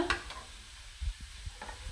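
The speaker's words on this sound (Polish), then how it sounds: "i smażymy warzywa na dość wysokim ogniu" Sliced mushrooms and grated zucchini fry over fairly high heat in a pan, with soft sizzling and a few spoon-stirring clacks and scrapes, quiet and close.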